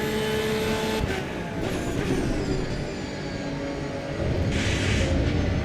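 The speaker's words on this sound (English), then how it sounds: "Don't like that noise when you bounce off the rumble strips there." Race car in Assetto Corsa EVO running over trackside rumble strips, engine roar steady throughout with bursts of rattling, juddering bumps from the kerbs, loud and close.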